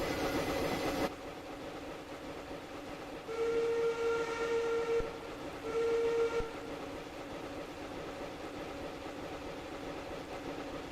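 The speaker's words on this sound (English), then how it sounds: "The whistle sound's got this strange sort of oomph at the end of it" Steam whistle of a DSP&P Mogul steam locomotive in Train Simulator Classic, sounding two loud sustained blasts, the first longer, each ending abruptly, over a steady rumbling engine background.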